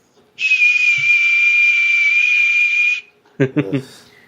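A single shrill whistle holds one steady pitch for about two and a half seconds, and a few short spoken syllables follow right after it.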